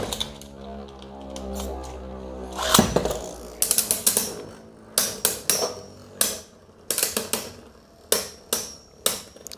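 Beyblade tops Flame and Takara Tomy Cyclone Belial from the Astral Spriggan set are launched with a ratcheting whir, then clatter against each other in a stadium with a string of sharp metallic clicks and hits.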